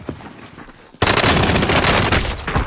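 Rapid video game gunfire bursts in sharply at about one second and rattles on loud and dense to the end, after a quieter stretch of low background rumble.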